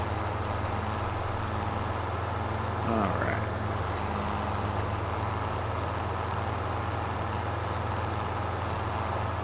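Big tractor engine in Farming Simulator 25, a continuous low idling rumble with a steady hum, holding even for several seconds, with a brief rising whine midway and a short spoken remark.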